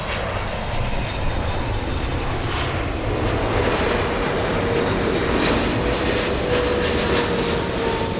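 A large airliner arriving at LAX from Jeddah roars steadily overhead, a loud, broad jet-engine rumble that holds constant with no talk.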